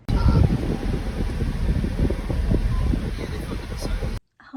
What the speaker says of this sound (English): it is a little windy outside